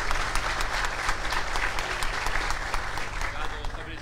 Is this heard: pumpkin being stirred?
no